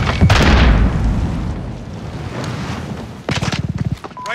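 A grenade blows up in Call of Duty Modern Warfare team deathmatch play, a loud close boom with a rumbling tail that fades over a few seconds before a second burst of crackling impacts.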